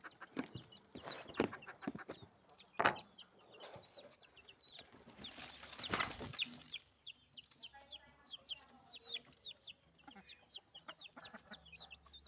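Baby chicks peep in quick high chirps during feeding, with clucking and scattered rustling nearby, fairly quiet and close.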